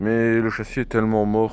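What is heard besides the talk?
None of the usual background noises is heard.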